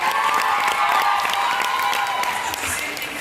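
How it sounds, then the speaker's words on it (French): Applause and cheering from an audience at a magic show as a child is called up onto the stage, a dense steady clatter of clapping with some shouts, holding loud throughout before easing slightly at the end. "est-ce que tu peux me rejoindre sur scène sous un tonnerre d'applaudissements?"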